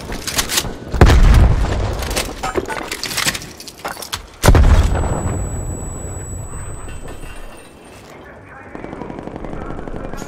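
Grenade blasts and gunfire in the video game Call of Duty: Black Ops Cold War, with two heavy booms a few seconds apart, loud and close, over rattling shots and game voices.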